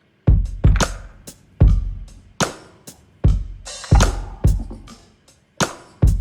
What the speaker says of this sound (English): hi-hat loop or the percussion loop and the drum placement together sound like this.